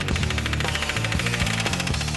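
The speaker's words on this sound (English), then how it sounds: "the ceramic gets vibrated off by a pneumatic knockout hammer" A pneumatic knockout hammer vibrates the ceramic mold off cast titanium hammers, giving a loud, continuous rapid-fire rattling hammering that stays close and dense with no pauses.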